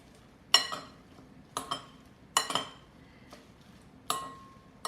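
Utensil clinks and scrapes against a bowl as king crab salad is mixed with dressing, five sharp bursts at uneven intervals, close and moderately loud over a quiet background.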